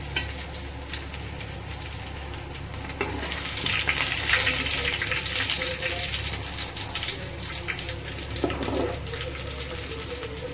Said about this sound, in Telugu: వేడెక్కాక అంటే కాలుతుంది కదా, చిట్టపట్ట సౌండ్ వచ్చిన తర్వాత కరివేపాకు కొద్దిగా